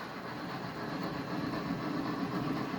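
A model railroad locomotive fitted with a TCS decoder rolls along a home layout past parked F unit models, giving a steady low rumble and mechanical whir at moderate distance, alone without talk.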